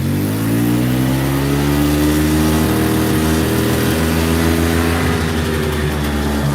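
A 1986 EZGO golf cart engine runs hard with a wheel spinning fast, giving a loud, continuous mechanical drone that shifts pitch as the throttle changes, with no voices.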